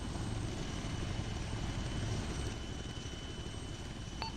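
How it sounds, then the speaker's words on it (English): Steady helicopter rotor and engine drone in a video game, continuous and moderately loud without pause, with no speech. "Hopefully the helo doesn't take off without us."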